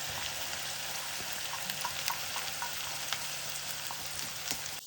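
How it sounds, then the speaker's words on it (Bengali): Four large onions frying in a pan over a high flame, a loud steady sizzle with crackling pops throughout. "চারটে মোটামুটি বড় সাইজেরই আর কি পেঁয়াজ দিয়েছি আমি আচ্ছা পেঁয়াজটা আমি ফ্লেমটা না কমিয়ে দিয়েছি"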